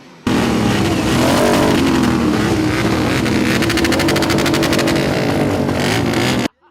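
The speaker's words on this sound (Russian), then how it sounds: "приняв участие в конкурсе на самый громкий мотоцикл" Motorcycles revving hard in a loudest-motorcycle contest at a rock festival on a ski stadium, a sustained loud roaring engine drone with rising, rapid-firing exhaust pulses, close and continuous with no talk.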